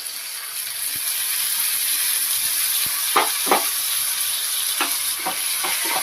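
Chopped tomato is tossed into a pan of softened, lightly browned onions, and a steady close hiss of frying follows, broken by several scraping stirs with a spoon.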